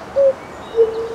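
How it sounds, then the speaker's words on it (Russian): A cuckoo calls outdoors with two separate, moderately loud hooting notes, one near the start and one later, over a faint background and with no talking. "Кукушка, кукушка."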